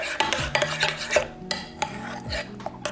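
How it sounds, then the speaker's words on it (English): Chili lime sauce being stirred in a bowl, with repeated close scraping and clinking strokes of a utensil against the dish in an uneven rhythm, no voices. "we're stirring it together"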